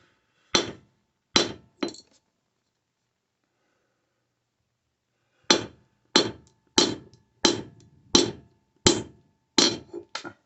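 A hammer strikes sterling silver in hand forging, with sharp ringing metallic blows, three close together, a pause, then a steady run of about eight more, loud and near.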